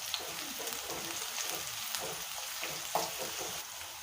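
Green chillies and onions fry in hot oil in a pan for an ivy gourd fry. A steady, moderately loud sizzle hisses throughout, with occasional small pops and spits.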